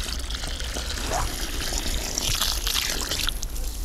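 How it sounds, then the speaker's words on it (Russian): Roughly a bucketful of water poured into a planting hole while transplanting conifers in autumn, a steady splashing, gurgling pour that runs close by and alone for about four seconds. "берем водичку и пересадкой наполняем"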